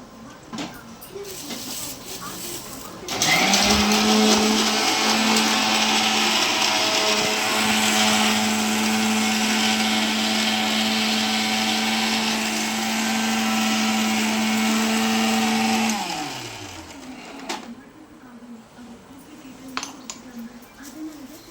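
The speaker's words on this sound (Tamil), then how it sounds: "இஞ்சியை மிக்சியில் போடணும்." A mixer grinder whirs loudly and steadily for about thirteen seconds while grinding ginger for tea, starting and stopping abruptly, with light kitchen clinks after it winds down.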